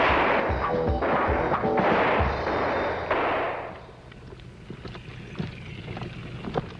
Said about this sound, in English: All Marines are required to fire for score once a year.